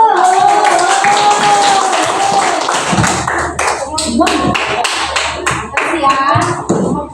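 A class of children claps their hands in a lively, uneven burst of applause, with young voices chattering and calling out over and between the claps.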